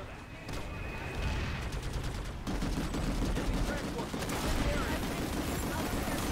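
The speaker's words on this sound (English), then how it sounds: "There are some very noisy vehicles and gunfire going on right now, that's for sure." Gunfire and noisy vehicles in the online shooter PlanetSide 2: dense rapid bursts of shots and rumbling engines keep up a loud, continuous din, with people talking over it.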